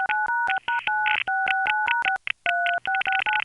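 A rapid sequence of touch-tone dialing beeps on the New York City telephone network, 1976, each short dual-pitched tone following quickly after the last, with clicks and line noise between them.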